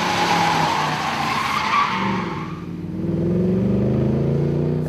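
A Mercedes-Benz E63 AMG corners hard, its tires squealing and skidding loudly up close while the engine note rises and shifts through the turn.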